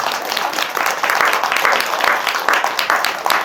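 An audience at a Buddhist temple dharma talk claps together in a burst of applause, the rapid claps rising and holding for a few seconds.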